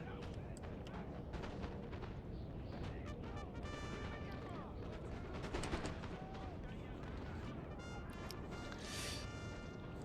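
Musket volleys crackle and rumble continuously across a Napoleon Total War battle on grassy flatlands, dense overlapping shots and distant booms at a steady moderate loudness.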